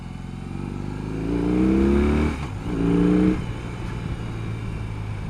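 A BMW R18 motorcycle engine rumbles and revs up, drops sharply through a clutchless shift from first to second gear, then pulls again before settling into a steady drone, close and loud with road and wind noise.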